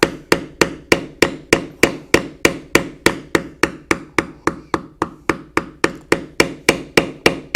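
A mallet hammers a leather tooling stamp into leather, about thirty sharp, evenly spaced strikes in a steady rhythm, loud and close, with no talking.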